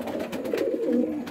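Racing homer pigeons coo softly in a loft, a low, throaty burbling murmur that continues briefly and faintly without talk.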